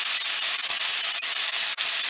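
Jerk-seasoned shrimp sear in a hot pan, giving a steady, loud broadband sizzle and hiss that runs unbroken from start to finish, with faint crackles scattered through it.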